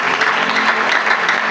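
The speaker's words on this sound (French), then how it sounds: "Est-ce qu'on peut acclamer pour Jésus?" A church congregation at a French-language worship service applauds for Jesus with dense, continuous, loud clapping throughout.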